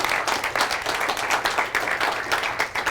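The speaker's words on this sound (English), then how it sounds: "Can we give him a hand clap putting on these events?" A seminar audience claps in a steady, fairly dense burst of applause with rhythmic pulsing, close and even throughout, with no talk over it.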